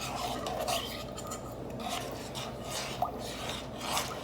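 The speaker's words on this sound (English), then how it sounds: "And then give it a good stir." A spoon scrapes and rubs around a pot of vegan Italian beef, close and steady, with rhythmic rasping strokes and a faint clink near the middle.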